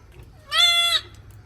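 A goat on a goat farm bleats once, a loud, clear, wavering cry lasting about half a second, heard alone just after delivering a male kid.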